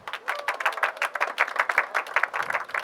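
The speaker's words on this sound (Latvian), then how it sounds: "aplausi." Audience applause at a storytelling festival in Kuldīga, a steady patter of many hands clapping together, moderately close and lasting throughout with no talking.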